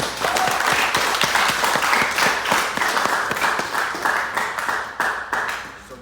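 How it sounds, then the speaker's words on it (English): Audience applause at a talk in LA, steady and dense from a full room for about five seconds, then slowly thinning toward the end. "Let's clap it up for him one more time"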